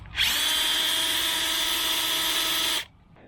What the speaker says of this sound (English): drilling these caps was the hardest thing